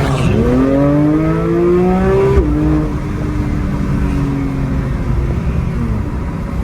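Sports car engine revving hard in sport mode, pitch climbing in steady sweeps and dropping sharply at an instant gear shift, then pulling again; loud, close and continuous with no talk.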